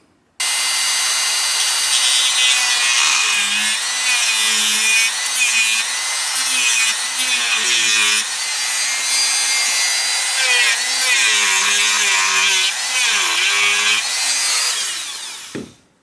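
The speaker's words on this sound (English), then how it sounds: "I'm going to go ahead and start on the corners with the Dremel" A Dremel rotary tool grinds through the corners of a GoPro Hero 9 screen housing, a loud, continuous high-pitched buzz with wavering pitch as the load changes, stopping abruptly at the end.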